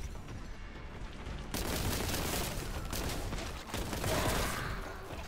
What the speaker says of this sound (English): I'm gonna shoot these guys first.